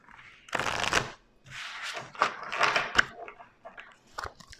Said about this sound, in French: Allez, on va mélanger.